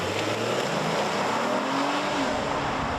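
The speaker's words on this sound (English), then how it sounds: "there's a nice subtle V6 growl when you put your foot into the throttle" A Honda Pilot Trailsport V6 engine growls under throttle, its pitch sweeping up steadily over a few seconds, loud and close with a dense, continuous rumble and no talk.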